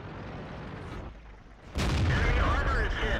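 A tank cannon fires once from an Object 140 in World of Tanks on the Malinovka map: a sudden loud boom with a broad, rumbling tail that rises out of quieter background game noise.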